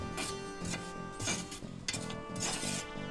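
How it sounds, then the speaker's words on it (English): Foundry moulding sand scraped off the top of a moulding box at Beamish Museum, a close, gritty rasping in repeated strokes with faint metallic clinks, no voices. "Then I will scrape the sand off the top of the box"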